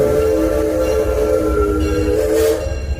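A small mine train ride at Six Flags Over Texas rolls along with a steady low rumble and a whistle-like tone sounding throughout, loud and close.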